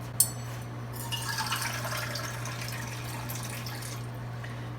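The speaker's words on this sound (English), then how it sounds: "And to this, I'm just going to add 3 cups of water." Water poured from a container onto a cup of cashews in a kitchen bowl, a steady soft splashing and trickling stream that runs close and continuous for several seconds, with a low constant hum beneath.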